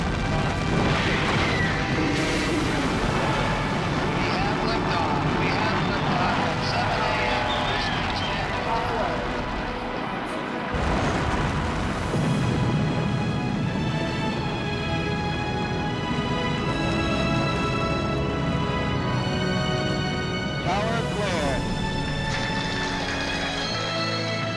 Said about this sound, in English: The hold-down arms release, and 6 million pounds of rocket begins rising.